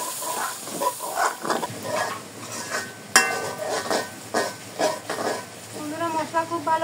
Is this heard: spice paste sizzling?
yes